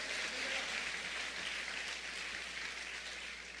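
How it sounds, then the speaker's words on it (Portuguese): A church congregation applauding during a sermon, a steady, dense wash of clapping held at even strength throughout, fairly distant and diffuse with no voices standing out. "Pode aplaudir para valer mesmo."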